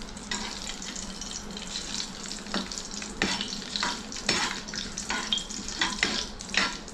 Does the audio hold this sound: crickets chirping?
no